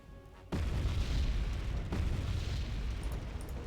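In the wargame Wargame Red Dragon, a missile strike hits with a sudden loud boom that rolls into a sustained, heavy rumbling blast lasting several seconds, with no talking over it.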